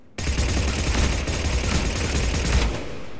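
Blood Pack Punisher firing full auto in Mass Effect 3, a dense unbroken stream of rapid gunfire lasting about two and a half seconds, loud and close with no talk.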